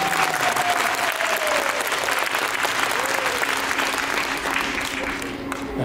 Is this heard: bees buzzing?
no